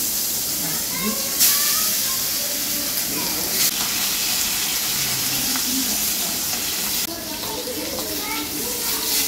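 Leta fish sizzles and fries in hot oil in a home kitchen pan, a steady crackling hiss with sharp bursts of spitting, while a person talks over it at intervals.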